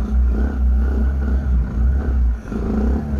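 A 2017 Kawasaki Z125 Pro motorcycle runs close and loud, its small engine rumbling low with uneven surges and one brief dip as the throttle eases and returns.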